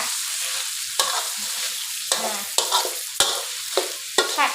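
Minced pork is stir-fried in a wok with a constant sizzle, broken up by repeated scraping strokes of a spatula at an irregular rhythm, loud and close.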